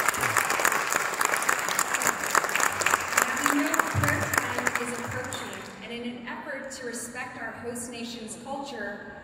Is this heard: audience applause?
yes